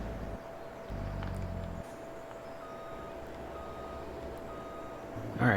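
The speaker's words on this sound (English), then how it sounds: "this truck sounds so weird" A truck engine in Farming Simulator 22 rumbles steadily while a high, regular reversing beep repeats through the clip; a louder burst of engine noise comes at the end.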